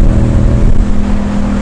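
Loud vehicle exhaust drones steadily close by, a constant low rumbling hum with a strong sustained tone and no talk.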